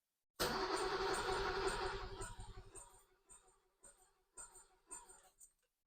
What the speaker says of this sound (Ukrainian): Перший холодний пуск.